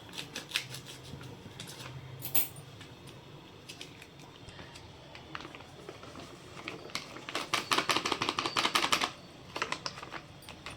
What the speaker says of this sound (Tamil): பேக்கெட்டை ஓப்பன் பண்ணிக்கலாம்